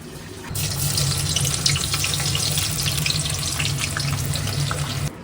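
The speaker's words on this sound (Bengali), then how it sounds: "এদিকে চলছে এখন বেরেস্তা ভাজা" Onions deep-frying into crisp beresta for biryani give a steady, dense sizzle that starts abruptly and holds at an even level for about five seconds, close to the pan with no talking.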